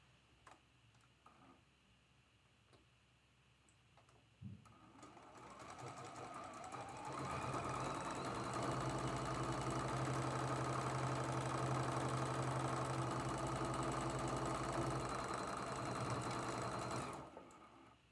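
A sewing machine stitching quilt block seams, starting with a few clicks and handling noises, then running steadily in a fast mechanical whir for about ten seconds before stopping.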